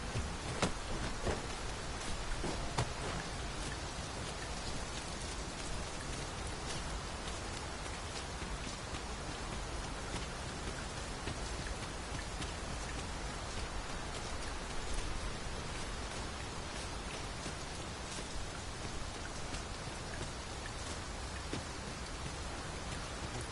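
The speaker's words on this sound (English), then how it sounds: "It is raining. I can't say this development is a welcome one." Rain pours steadily in the Dragon's Dogma 2 game world, a dense, even hiss of falling water that holds without break, with no voices over it.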